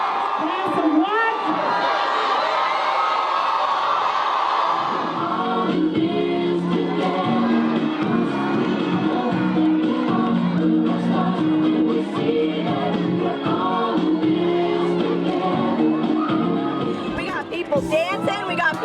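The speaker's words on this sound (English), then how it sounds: "we got people singing and cheering and laughing" A crowd of students at a class celebration cheers, whoops and shouts together, loud and sustained throughout. Voices stay mixed into the noise of the crowd.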